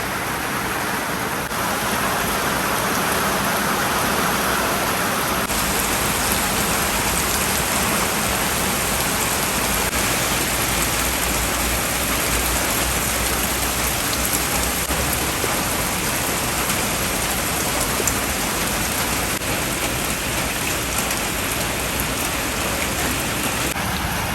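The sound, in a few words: rain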